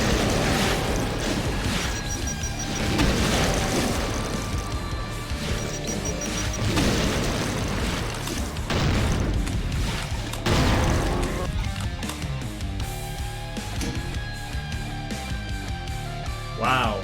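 Explosions in the first-person shooter Doom, with repeated crashing blasts and smashes over a steady bed of game music and noise, all at moderate volume, with some speech mixed in.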